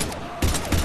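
Two heavy, booming shots fired at husks in the game Mass Effect 3, in quick succession over a dense, noisy battlefield background.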